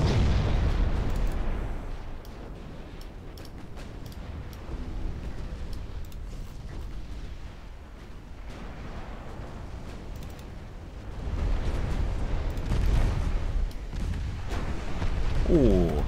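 Torpedo hits exploding against a cruiser in a naval warfare game, heavy booming blasts and rumbling detonations rolling through continuous battle noise, loudest at the start and again near the end.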